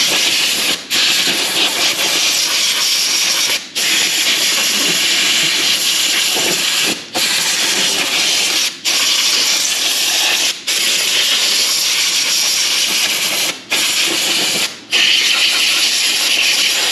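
Compressed air hisses in long continuous blasts over a Cummins 8.3 diesel engine on a Case IH Magnum 7210 tractor, cleaning it before disassembly, with several brief pauses between bursts and no talk.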